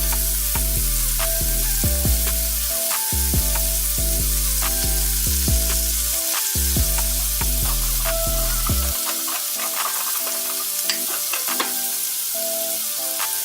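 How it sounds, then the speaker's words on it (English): Shrimp fry in hot bacon grease in a pan over medium-high heat, a loud, steady crackling sizzle with spitting pops that runs the whole time, with no talking. "that's what we're going to fry our shrimp in"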